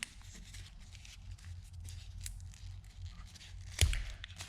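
Paper being creased and folded for an origami dragon bookmark, faint soft rustles and crinkles with a sharper crackle near the end, close and quiet.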